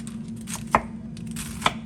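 Knife chopping vegetables such as carrot for a chicken and vegetable rice soup, two sharp isolated chops against a board over a steady low hum, close and clear with no talk.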